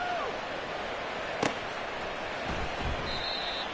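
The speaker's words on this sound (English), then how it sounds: "The ball upright on the tee, and the Saints kick team booms it away." A kickoff in the Madden 24 football video game lands as one sharp, loud boot thud midway through, set against a steady crowd-like ambience.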